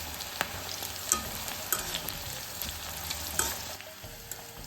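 Whole green chillies fry in hot oil for a North Karnataka salted chilli snack, giving a close, continuous sizzle broken by sharp crackling pops every half second or so.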